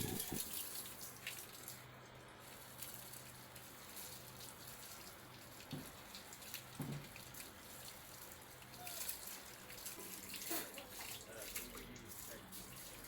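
Water is poured carefully over a pet during a midday bath on a hot day, a steady splashing trickle that runs the whole time with no talk.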